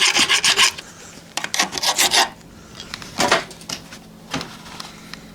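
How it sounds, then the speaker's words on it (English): A hand file rasping burrs off the metal of a Bomford hedge trimmer, with several short rhythmic scraping strokes close up and brief pauses between bursts. "We'll just take the burrs off."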